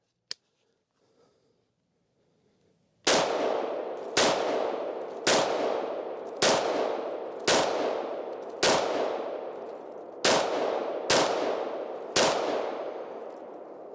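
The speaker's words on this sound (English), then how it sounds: "Let's shoot a little bit more." Gunshots from a gun test-fired with an Olight Odin GL M light mounted, a string of nine loud, sharp reports at a steady pace of roughly one per second after a quiet start, each ringing out briefly.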